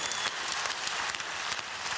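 Audience applause for organetto player Raffaele Logiurato at a talent show, a dense, steady wash of many hands clapping that carries on evenly throughout.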